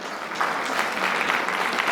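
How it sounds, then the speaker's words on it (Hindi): An audience at a program gathering claps loudly for the organising team. Steady, dense applause from a crowd of many hands continues evenly throughout, close and strong. "इनके लिए भी एक बार जोरदार तालियां बने"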